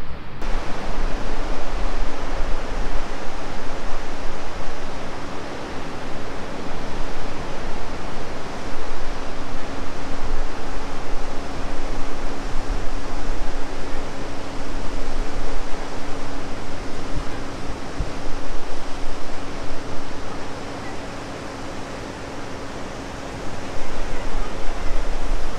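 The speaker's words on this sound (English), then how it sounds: "Okay, well that was the Yarrawonga Weir." Water pours over Yarrawonga Weir on the River Murray in a loud, continuous, broad roar that stays steady throughout, with no voices.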